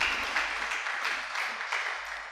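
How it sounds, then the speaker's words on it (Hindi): Audience clapping at a religious discourse, a steady broadband patter of many hands at moderate level with uneven pulses throughout. "ताली बजा लो पहले।"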